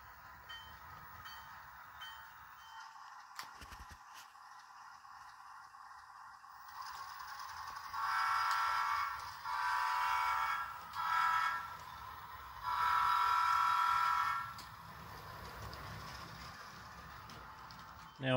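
A model train moves on a layout to pick up two piggyback cars, producing quiet mechanical clicking followed by bursts of motor whine and rolling hum, in several runs.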